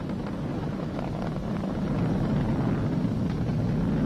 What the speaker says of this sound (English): We're throttling down to get ready for the period of maximum dynamic pressure.